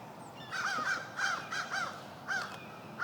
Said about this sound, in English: Annoying ass birds.